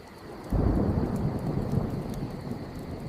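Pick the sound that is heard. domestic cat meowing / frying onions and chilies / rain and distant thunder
rain and distant thunder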